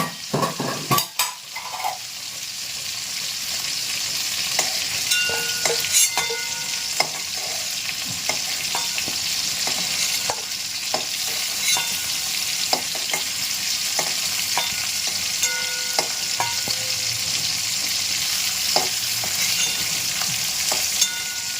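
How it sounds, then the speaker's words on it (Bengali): Potatoes fry in a pan with only salt and no turmeric while a utensil stirs them. There is a steady close sizzle throughout, with scattered clicks and scrapes from the stirring. "শুধু লবণ দিয়ে ভেজেছি, হলুদ দিইনি।"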